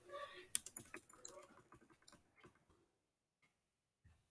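Quick keystrokes on a computer keyboard, a burst of light clicks that trails off into a few isolated taps, faint and close, with a brief voice at the start.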